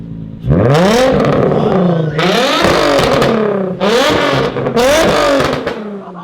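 A car's Tomei Ti titanium exhaust revving loudly and repeatedly, the engine note climbing and falling in several long, close, roaring pulls.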